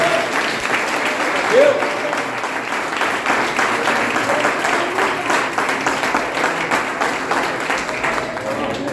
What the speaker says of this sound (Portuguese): Nós vamos dar salve de palmas para o nosso pastor.